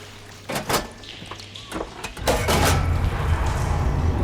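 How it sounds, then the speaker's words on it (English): Water flow switching through machinery in Horizon Forbidden West: a few clanks and knocks, then a rising rush of water that settles into a steady, fairly loud flow. "Sounds like the water's switched."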